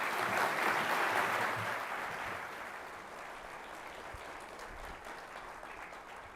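An audience claps steadily to welcome special guests at a lecture event, the applause strongest at the start and then easing off while continuing.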